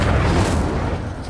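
The Incendio fire spell in Hogwarts Legacy erupts in a single loud, booming fiery burst that rumbles and slowly fades, with no speech.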